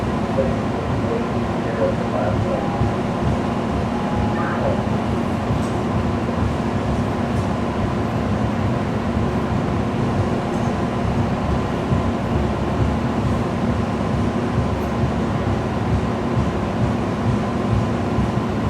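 An Expo Line light rail train pulls into Farmdale Station with a steady, loud rumble and hum that holds level throughout, with no clear breaks.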